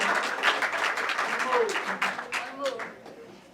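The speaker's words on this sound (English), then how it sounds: "Another round of applause for these great poems." Audience applause for two poets at a reading, a steady wash of clapping with voices mixed in, fading toward the end.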